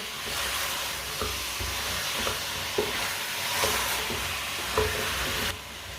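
Turnip and potato mixture frying in a pan, a steady close sizzle broken by repeated scraping stirs and a few soft knocks.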